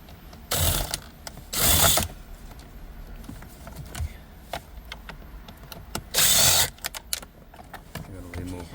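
Screws being backed out of the dash trim around the instrument cluster bezel of a Kia Optima, heard as a few loud clicking ratchet bursts with quiet handling noises and faint talk between them.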